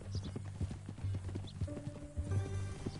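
Horse hooves clip-clopping at a steady walking rhythm in the Western video game Red Dead Redemption, close and distinct, with a sustained musical tone joining in the second half.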